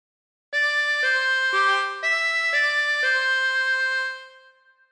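Harmonica playing a phrase of Yellow Rose of Texas, several sustained reedy notes that shift in pitch in a slow, connected line, clear and close before fading out, unaccompanied.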